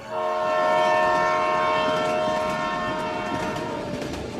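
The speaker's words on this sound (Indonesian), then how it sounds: "Aku pun berangkat menggunakan kereta ke Bandung." A passenger train heading to Bandung rolls along with a loud, sustained horn-like tone over a steady rumble of the carriages, fading slightly as it goes, with no voices.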